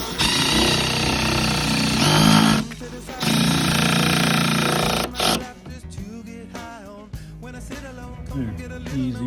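A power drill bores into a wall during a thermostat installation, loud whining bursts for several seconds with short pauses, followed by scraping and handling noises as a voice talks.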